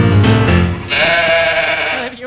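A sheep's bleat, or a voice imitating one, starts low and rough, then rises into a loud, sustained, wavering cry for about a second before cutting off.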